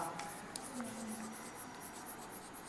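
A pen scratches steadily across paper while a formal letter is being written, a soft continuous scraping close up with faint strokes and no voice over it.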